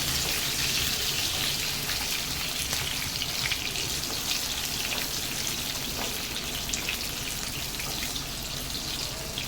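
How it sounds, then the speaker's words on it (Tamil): Eggplant sautéing in hot oil for a Tamil-style sardine curry gives off a steady, close, hissing sizzle with fine crackling spatter that holds evenly throughout, with no voices. "கத்திரிக்காய் நல்லா எண்ணெயிலே வதக்கிட்டு"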